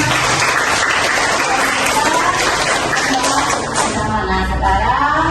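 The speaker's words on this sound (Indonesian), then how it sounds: "Tepuk tangan dulu untuk kita semua." A class of students applauding in a school classroom, loud sustained clapping from many hands that carries on steadily for about five seconds before thinning out.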